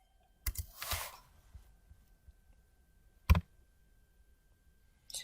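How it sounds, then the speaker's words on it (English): A few isolated computer keyboard key clicks, close and fairly quiet, with a short burst near the start, a sharp tap in the middle and a faint one at the end, separated by near silence. "Now, if I type in Leeds"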